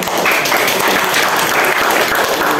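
A classroom group claps after an invitation for strong applause during a teaching session, producing dense, loud, continuous clapping from start to finish with no speech.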